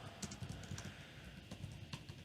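Keys clatter on a computer keyboard in quick, irregular bursts of typing, fairly close and steady throughout, with no voice over them.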